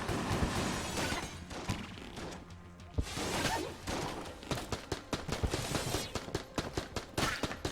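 Rapid gunfire from the Enter the Gungeon video game, a dense barrage of shots and bursts with whooshes and crashes, loud and nearly continuous with a brief lull before the volleys resume.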